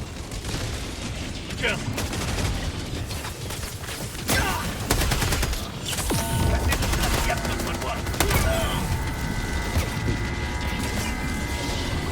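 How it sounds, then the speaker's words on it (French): Video game gunfire aimed into a building, heard as bursts of shots and crashing impacts amid a noisy battle mix, with players talking over it. "je tire dans l'immeuble"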